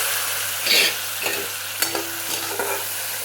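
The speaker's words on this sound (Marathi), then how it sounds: "तर थोडंसं दूध टाकून घ्यायचं आहे आपल्याला आता." Milk poured into browned vermicelli in a hot pan, a brief burst of sizzle followed by soft stirring scrapes and clinks of a spoon, close and quiet, with no talking.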